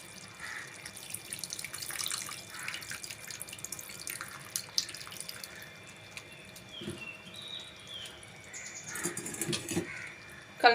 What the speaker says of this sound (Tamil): இப்போ நம்ம புளி கரைசலை ஊற்றிக்கலாம்